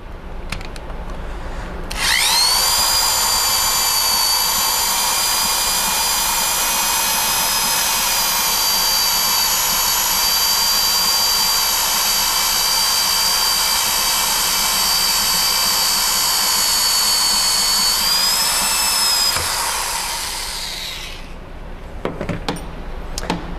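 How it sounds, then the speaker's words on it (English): A drill motor drives a knurling tool through a cylinder-head valve guide, producing a loud, steady high-pitched whine with a grinding edge for about eighteen seconds before it winds down and stops, followed by a few faint clicks. "as you've seen with the drill motor, it drops off fairly quickly"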